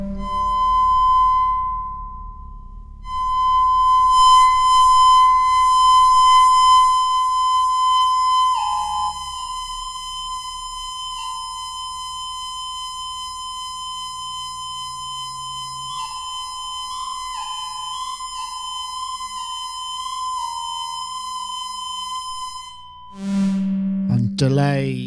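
Synthesizer tones run through tight reverb and modulated delay, sustained pure pitches with stepped and warbling shifts, then a burst of feedback noise near the end; loud and alone, with no talking.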